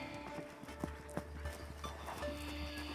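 Horse hooves clip-clop softly in irregular steps over a low steady hum, faint and somewhat distant, with no voices.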